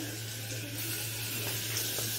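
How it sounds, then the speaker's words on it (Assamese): Ginger, garlic, chilli and onion fry in a dry wok, giving a steady, close hiss and sizzle with faint crackles, continuous and even, with no voices. "শুকানকৈ আদা নহৰু জলকীয়া পিঁয়াজ ভাজি আছোঁ"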